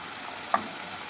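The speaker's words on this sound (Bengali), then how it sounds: "শুকনো করে নেবো এটাকে, ভালো করে কষা কষা করে নেবো ভালো করে।" Tomato paste fries in a pan for a chickpea and paneer curry with a steady, quiet sizzle. A single small pop stands out midway, and no one speaks.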